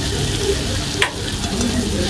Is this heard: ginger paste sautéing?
yes